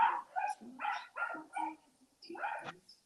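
A dog barks in a short series of four or five yips and woofs, then pauses before a final bark, fairly close but quiet, heard during a casual NFL preseason watch party.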